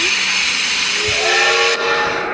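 A loud, steady steam train whistle in a Roblox video game blows with a hissing, airy tone, holding continuously before cutting off abruptly and leaving a softer hiss.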